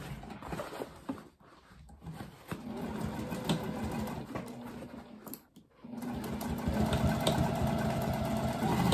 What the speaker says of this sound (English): sew across the box bottom with a 1/4 inch seam allowance